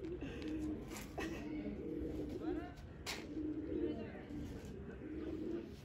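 Pigeons coo repeatedly outdoors, soft rolling calls at a moderate distance, mixed with people talking and a few sharp bird chirps.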